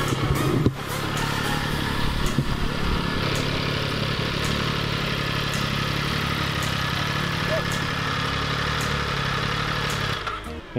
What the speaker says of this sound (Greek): γιατί νομίζω ότι ακούω τη μηχανή